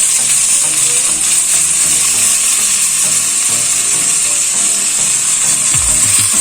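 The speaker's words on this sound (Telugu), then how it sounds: "బాగా మిక్స్ చేసుకునేసి ఆనియన్స్ని కాసేపు వేగనివ్వాలి." Onions sizzle steadily in a hot pan while cooking Andhra-style kanda pulusu, a constant loud frying hiss with occasional soft stirring scrapes and a clunk near the end.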